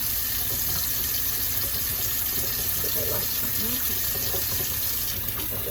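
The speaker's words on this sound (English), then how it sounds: "Rinse as I go in case it's bleeding." Running tap water rinses freshly tie-dyed fabric in a sink, a steady broad splashing flow that stays even throughout with faint background speech underneath.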